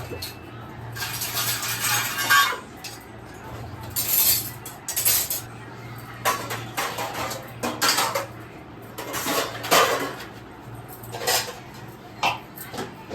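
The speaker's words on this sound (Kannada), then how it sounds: "ಪಾತ್ರೆ ಎಲ್ಲ ತೊಳೆದು ಇಟ್ಬಿಟ್ಟಿದ್ದೀನಿ, ಇನ್ನು ಅದೆಲ್ಲ ಜೋಡಿಸ್ಬಿಟ್ಟು ಇದೆಲ್ಲ ಜೋಡಿಸ್ಬಿಟ್ಟು ಊಟ ಮಾಡಬೇಕು" Freshly washed dishes, steel pots and pans are stacked and arranged in a home kitchen, making loud clattering bursts of metal clanks and cutlery clinks separated by short pauses.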